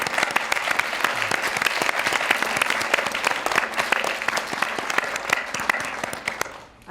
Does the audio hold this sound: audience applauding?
yes